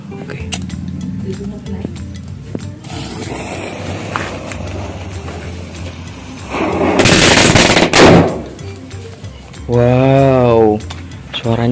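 Kretek firecrackers set off outdoors crackle in a loud, rapid burst of bangs lasting a couple of seconds, nearby, with mechanical clatter around them and a whining tone afterward.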